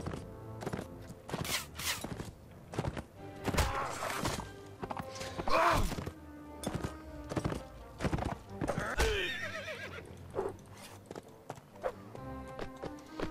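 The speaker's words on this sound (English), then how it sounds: "Come on, horse, faster." A horse in the video game Mount and Blade moves with rapid clip-clop hoofbeats and lets out a loud whinny partway through, amid battle clatter.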